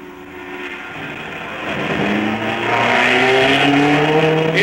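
A red Italian race car at the 1958 Sebring 12 Hours accelerates away, its engine note climbing in pitch and swelling louder over nearly five seconds, heard alone without talk.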